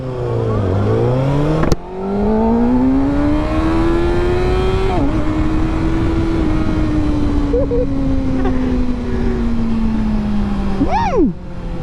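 A loud 2024 Kawasaki ZX-6R sport motorcycle with stock exhaust roars close by, revving up and holding a steady rising whine, with a brief sharp rev near the end.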